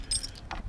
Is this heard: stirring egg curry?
no